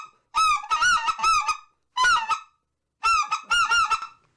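A waterfowl game call is blown in three bursts of rapid, nasal goose-like honks, loud and close with short pauses between the runs.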